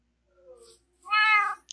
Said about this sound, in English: you can stay right here and be our guard cat